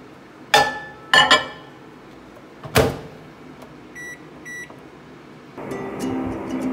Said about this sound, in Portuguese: já levo pra aquecer no micro-ondas.